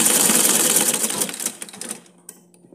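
Electric sewing machine stitching a zipper onto fabric for a pencil holder, a dense rapid mechanical chatter running steadily close by, then slowing and stopping into a few faint clicks near the end.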